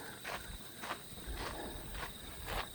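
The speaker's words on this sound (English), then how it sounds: "hear all the crickets in the grass" Crickets chirp in the grass beside a walkway by day, faint regular pulses repeating about twice a second over a soft outdoor hiss.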